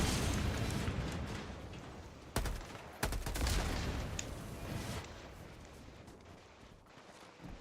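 Video game gunfire roars as a dense, sustained rattle of shots with sharp cracks partway through, then gradually thins and fades, with no talking.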